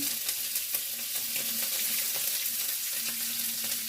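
Chopped onion goes into a skillet with a little oil and melted butter, giving a steady, close hiss of frying with faint light crackles throughout and no voices.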